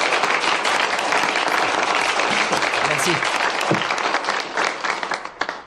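A crowd applauds loudly for a guest of honour, dense clapping throughout that tapers off near the end, with a brief voice speaking over it.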